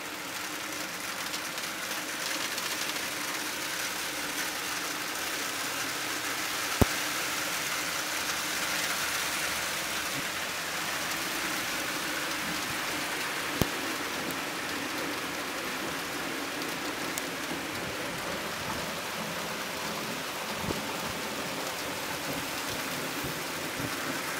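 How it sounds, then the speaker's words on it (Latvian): Heavy rain pours during a thunderstorm with hail in Jelgava, a dense, steady hiss of downpour with a few sharp ticks of impacts. "izskatās, ka tur pat ļoti stipra lietusgāze, jā."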